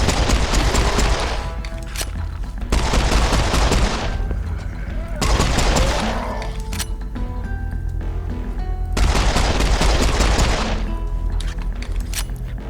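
Bursts of rapid gunfire from the video game Serious Sam 4 come in four loud clusters separated by short gaps, each a dense crackling volley over a droning game soundtrack.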